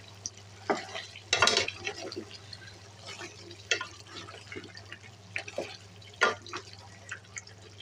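Bottle gourd sautéing with beef in a pan, moist sputtering sizzle with irregular stirring scrapes and wet spatters, one louder burst of clatter near the start.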